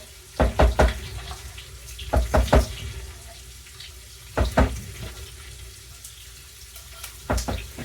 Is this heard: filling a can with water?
yes